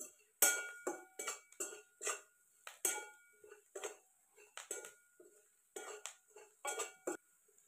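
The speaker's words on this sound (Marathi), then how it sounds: "फोडणी छान मिक्स करून घेते." A spoon stirs a tempering of ground coconut, coriander powder, turmeric and salt in a pot on a wood-fired stove, making quiet, repeated metallic clinks and scrapes in an uneven rhythm, with no talking.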